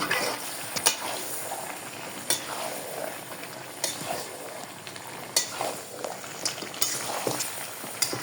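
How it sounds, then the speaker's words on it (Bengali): Mutton frying in a pan with onion, garlic and ginger, a steady close sizzle broken by repeated scraping stirs and utensil knocks throughout. "মাংসটা একটু ভালো করে কষাতে হবে"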